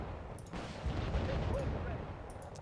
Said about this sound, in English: Those bloody mortars are back.